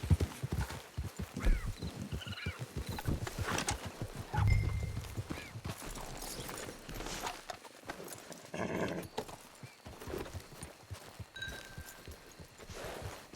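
Horse hooves clip-clop steadily through a video game scene, with a horse neighing and a dog barking at moments amid background game sounds and scattered voices.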